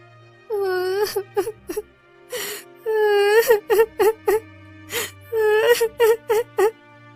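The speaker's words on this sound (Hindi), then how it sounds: "एक स्त्री दिखाई पड़ती है जो काफी जोर जोर से रो रही होती है" A woman wails and sobs loudly in long, rising cries broken by short gasping sobs, with a low steady hum underneath.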